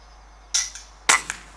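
An air rifle fires at a jackdaw perched in a farmyard tree: two sharp, close cracks about half a second apart, each with a brief tail, heard alone against quiet surroundings.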